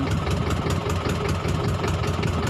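A fishing boat engine runs steadily at idle, a continuous low rumble with heavy vibration, close and loud, with no voices over it.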